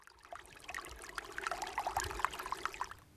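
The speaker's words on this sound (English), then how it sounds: "It's just a bit of water running downhill, I thought." Glacier meltwater running downhill in a small brook, trickling and gurgling close by with bright bubbling plinks, steady and fairly quiet, no talk.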